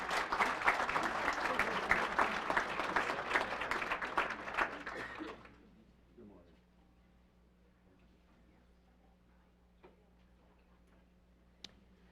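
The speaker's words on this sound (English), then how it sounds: "Let's give them a round of applause." Audience applause at a technical school letter of intent signing day, a burst of clapping lasting about five seconds, then an abrupt drop to a quiet room with a few faint clicks.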